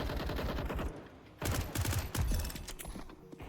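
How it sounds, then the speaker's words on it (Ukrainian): An M249 heavy machine gun fires in the video game CS2, with dense rapid bursts of loud gunfire that pause briefly and resume, mixed with mechanical clatter. "Так, М249. Важкий кулемет е, важкий і в зажимах для мене."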